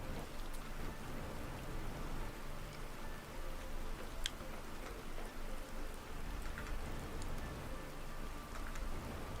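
Steady rain falling in a video game, a dense, even hiss of drops with occasional louder taps, continuous throughout and no voices.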